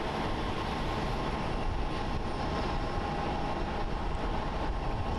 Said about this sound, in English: We have that pushback of this ANA Dreamliner going to be departing to Osaka.